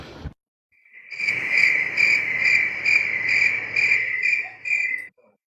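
Steady cricket chirping rings out alone, a continuous pulsing trill with a regular rhythm, fairly loud and close, lasting several seconds before cutting off.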